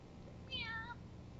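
A cat meows in the video game Time Hollow: one short, clear, rising-and-falling meow at moderate level over quiet background hiss.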